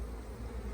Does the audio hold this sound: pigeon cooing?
no